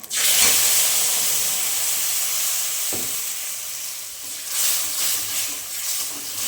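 Green chilli spice paste drops into hot oil while cooking prawns, bursting into a loud hissing sizzle that fades a little, then a sharp scrape midway and a renewed surge of spitting toward the end.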